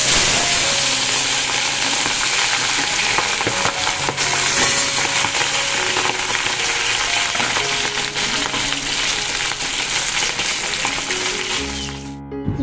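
Fish frying in a pan at home, a loud, steady sizzle and crackle of hot oil that runs continuously close to the mic, dropping off abruptly at the very end.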